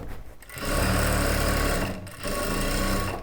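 A sewing machine stitches a churidar top in two close, steady bursts of rapid mechanical whirring, separated by a short pause.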